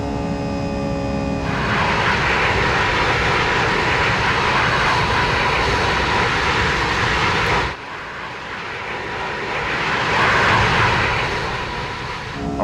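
Twin jet engines of a JARDesign A320 airliner spooling up to takeoff thrust in X-Plane 11, a steady loud roaring whine that holds, dips briefly, then swells again, with no talking.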